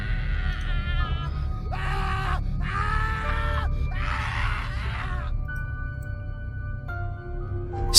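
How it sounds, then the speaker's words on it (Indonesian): A man screams and groans in agony in several drawn-out anguished bursts over a low droning background, a horror-story sound effect with no speech. "ia mendengar suara teriakan dari Mas Cipto"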